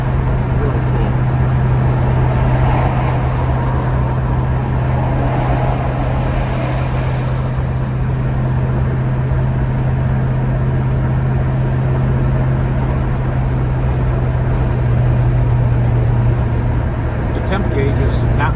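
A 1971 Chevrolet Chevelle runs on the road, its steady engine drone and road noise heard from inside the car, loud and continuous, with a low persistent hum throughout.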